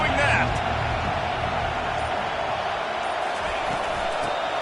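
Steady, dense roar of a stadium crowd cheering at a Go Blue vs Quack Pack college football game, filling the whole clip at an even level with a brief brighter swell at the start.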